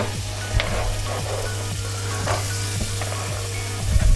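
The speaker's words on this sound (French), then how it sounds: "on va mettre un peu de beurre dans la casserole, on va attendre qu'il fonde un peu" Butter melts in a saucepan with a steady, close sizzle and crackle, small pops scattered throughout, while food is stirred now and then; no one speaks over it.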